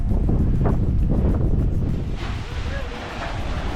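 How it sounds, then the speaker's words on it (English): Broad, roaring Atlantic surf and rushing wind fill the scene at Thunder Hole, Acadia National Park, Maine, waves surging into a narrow rock channel and cavern with a steady, booming wash; a faint voice sits beneath. "thunderous sound caused when waves from the Atlantic Ocean crash into a narrow channel and cavern beneath the rocks"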